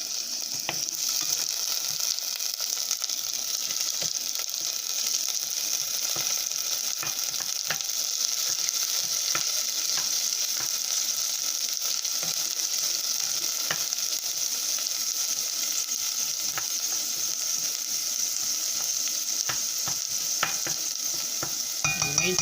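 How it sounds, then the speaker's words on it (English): Blended onion and garlic fry in a pan, producing a continuous loud sizzle with crackling pops and occasional scraping stirs throughout, close up and with no talking. "So we're gonna fry this up a little."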